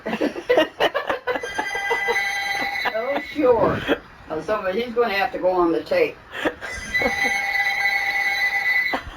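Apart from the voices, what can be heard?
telephone ringing, phone hidden somewhere in the room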